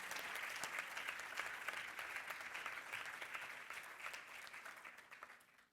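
An audience at a school performance launch applauds students with dense, sustained clapping that stays strong for several seconds before tapering off at the end.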